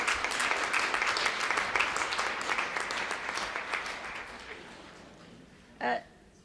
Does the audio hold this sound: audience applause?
yes